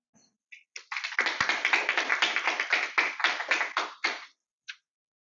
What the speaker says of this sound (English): Please welcome Silver with a round of applause.